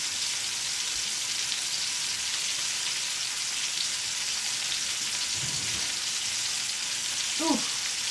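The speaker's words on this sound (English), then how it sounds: "I've got my lamb steak cooking in the frying pan here." A lamb steak in a frying pan gives a steady, even sizzle that holds without a break, with a faint brief voice or clatter near the end.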